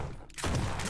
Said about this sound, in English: This guy is shooting at me.